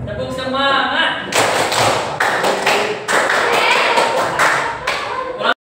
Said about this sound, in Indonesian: semuanya beri tepuk semangat dulu